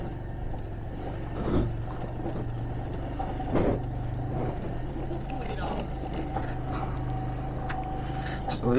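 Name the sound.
road traffic passing during a motorbike ride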